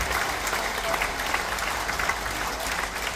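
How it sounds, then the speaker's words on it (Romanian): Audience applause after a folk dance from the Mureș plain at a Romanian National Day music show, steady dense clapping from a large crowd filling the whole stretch at even volume. "Mai aplaudați odată pentru că merită din tot sufletul."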